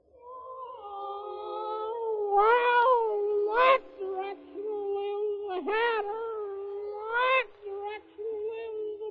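A Cheshire cat sound effect in an old radio drama of Alice in Wonderland: a series of clear, drawn-out, wavering meows, loud and close, rising and falling over a sustained tone with no one speaking.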